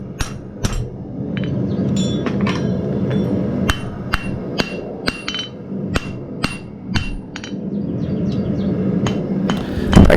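Blacksmith hammering forged metal after spring fullering, sharp ringing blows struck at an irregular pace, about a dozen loud strikes over a steady background hum, with lighter metallic clinks between them.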